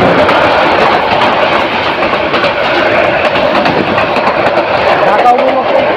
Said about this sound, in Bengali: মহানগর বদলি ট্রেনটি দ্রুত গতিতে আমিরগঞ্জ স্টেশন ক্রস করে দিচ্ছে